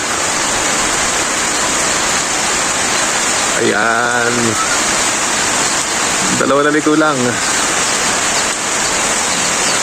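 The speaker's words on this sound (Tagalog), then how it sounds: "Lakas ng hangin, lakas ng ulan." Loud, dense rain roaring steadily with gusting wind, a constant wash of noise; someone speaks briefly twice over it.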